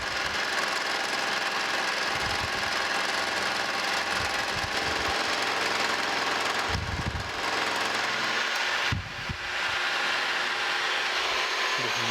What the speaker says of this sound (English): I'm just going to raise it up until it starts cutting about right there, and then cut them across